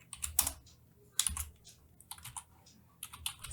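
Bursts of typing on a computer keyboard, clustered key clicks in quick irregular runs separated by short pauses, close and fairly quiet with no voices.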